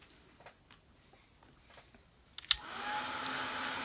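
Hair dryer switched on to dry paint on a fabric bag printed with a beehive design, starting with a click and then blowing as a steady, fairly loud whoosh after a quiet stretch with faint taps.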